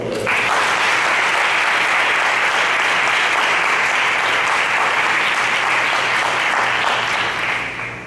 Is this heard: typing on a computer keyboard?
no